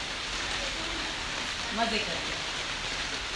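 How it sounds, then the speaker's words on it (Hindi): Steady rain falls throughout in cool weather, a broad even hiss with a brief voice speaking partway through. "बारिश में"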